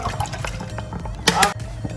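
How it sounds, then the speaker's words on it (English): Bottled water is poured into a pot for elderberry tea made with dried elderberries, honey, ginger and cinnamon, giving a short splashing gush among faint kitchen background noise. "Put in some water"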